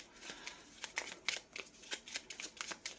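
Tarot cards being shuffled by hand, quiet and close: a run of quick papery riffles and soft flicks in an uneven rhythm, with no talking.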